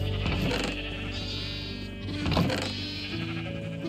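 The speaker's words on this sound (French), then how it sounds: "je vais abattre des moutons, les gars. Ça crie trop" Sheep in the Minecraft video game bleat repeatedly and loudly, a few overlapping cries close by with no talk over them.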